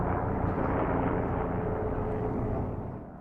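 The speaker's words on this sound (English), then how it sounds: "And then we're looking up at some really loud helicopters." Loud tourist helicopters flying over the Hudson River in New York City: a steady, dense low rumble of rotors and engine overhead that fades slightly toward the end.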